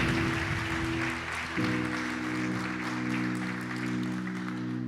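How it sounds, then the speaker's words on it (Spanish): Church congregation applauding in praise, a steady broad clatter of clapping held throughout while sustained organ or keyboard chords ring underneath. "¿Puedes darle un aplauso al Señor?"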